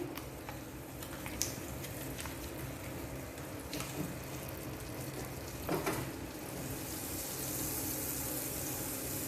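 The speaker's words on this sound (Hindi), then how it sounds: "अब इसमें हम सब्जियों को सौते कर लेंगे। उसके लिए हम थोड़ा सा मक्खन डालेंगे" Vegetables sautéing in butter in a pan for a pizza sandwich, a steady soft sizzle with occasional clicks and taps of stirring, fairly quiet throughout.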